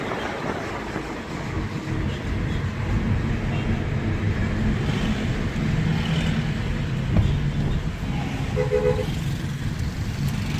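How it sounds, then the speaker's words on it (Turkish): Busy city traffic in Egypt near a branch of the Nile, a steady mid-distance roadway rumble with a few faint horn toots scattered through it and no clear voices. "Burada trafik bayağı yoğun arkadaşlar."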